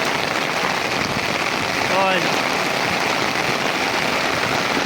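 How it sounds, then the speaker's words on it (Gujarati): Heavy rain pours steadily onto flooded farm fields, a loud, continuous dense hiss that holds level throughout, with a brief faint sweeping tone near the middle. "હજી વરસાદ ફૂલ ચાલુ હો"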